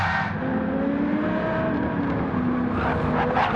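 A race car in Gran Turismo 7 on the Alsace track crosses the finish line, its engine a steady, moderately loud droning whine that holds without pause throughout.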